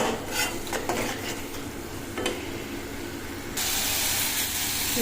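Curry gravy poured into a pan of cooked masala and chillies, giving a steady close hiss with light stirring and bubbling that swells into a brighter, louder rush near the end.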